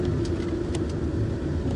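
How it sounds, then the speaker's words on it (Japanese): An oncoming car passes on a road near a mountain tunnel, heard as a steady, close engine and road rumble with no talking. "対向車来てるけど大丈夫か。"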